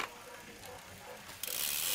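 Front derailleur of a Knight full-carbon lightweight bicycle with a triple chainring shifting down, a close mechanical ratcheting whir of the spinning drivetrain ending in a brighter clicking hiss as the chain drops.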